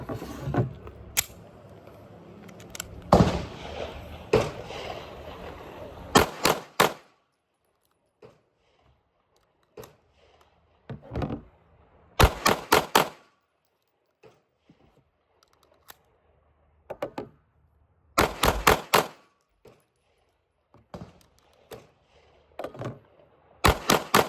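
Smith & Wesson M&P 2.0 Performance Center pistol with metal compensator firing CCI ammunition: sharp, loud shots in quick clusters of two to four, separated by quiet pauses, with faint handling noises between strings.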